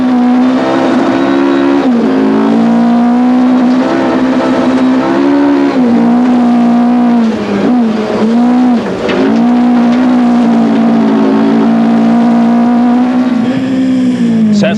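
Onboard a Sasol VW Golf rally car on a gravel stage of the 2001 Rally of South Africa: a loud, close engine drones hard throughout, with brief dips and re-revs at gear changes as it charges along.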